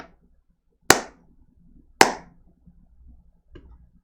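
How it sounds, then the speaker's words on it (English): Two sharp, isolated hand claps for a sync test during a live stream, close and loud, about a second apart over near silence, followed by a faint softer tap. "Can I do like a clap?"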